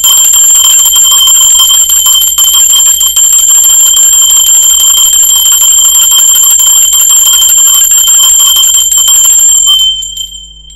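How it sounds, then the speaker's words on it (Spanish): A bell rings out to open a tarot reading, its bright, sustained metallic tone ringing loud and steady for about ten seconds before cutting off and fading away. "Va campana y comenzamos."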